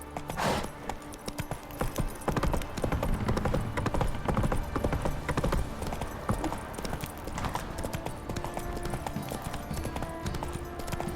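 Horse hooves clip-clopping at a steady trotting rhythm in The Witcher 3, close and continuous throughout, with background game sound underneath.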